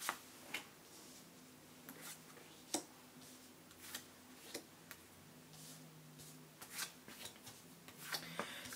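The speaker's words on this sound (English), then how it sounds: "I'm putting 10 cards down for the Celtic Cross spread here" Tarot cards shuffled and laid down one by one for a ten-card Celtic Cross spread, giving soft papery flicks and light taps at an irregular pace, close and quiet, with faint room hum underneath.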